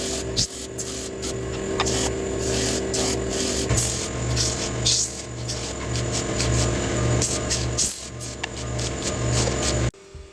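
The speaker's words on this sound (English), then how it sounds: "taking the finished trays over to the belt sanding station to remove the excess wood" A continuous, loud whirring of a belt sander grinding against wooden trays, with irregular scraping bursts, before cutting off abruptly near the end.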